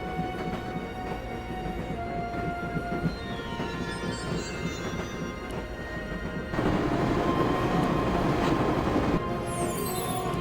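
In the Broken Sword video game, a train rolls along with a steady rumbling roar and faint rhythmic wheel clatter, growing noticeably louder partway through with a high squeal near the end.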